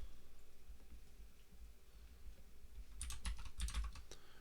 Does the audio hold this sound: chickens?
no